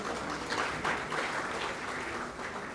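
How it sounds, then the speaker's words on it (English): Audience applause at a PG diploma convocation ceremony, a steady wash of many hands clapping together at a moderate distance, sustained throughout. "Can we have the claps, please?"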